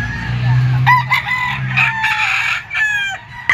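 Stag rooster crowing loudly and close at a Sunday chicken market, a single drawn-out crow with clucking around it and other fowl and light background noise.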